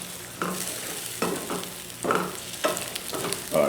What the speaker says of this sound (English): Let's mix those eggs about.